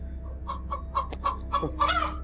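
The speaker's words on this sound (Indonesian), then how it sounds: "Suara ayam." Several short, sharp chicken clucks in an uneven run, fairly close, ending in a louder drawn-out squawk over a low steady hum.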